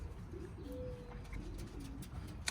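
Racing pigeons near a bath, giving soft low coos under a quiet outdoor background, with a few faint clicks and a brief rustle near the end.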